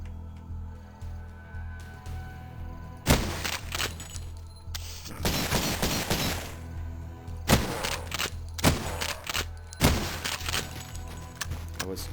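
Gunfire in the video game Cultic comes in several loud bursts of shots with thuds between them, over a low humming background, while someone talks at times.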